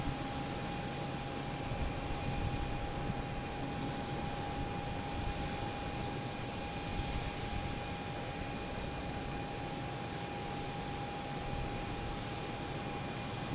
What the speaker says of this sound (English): we got Virgin Atlantic heading to Heathrow, lining up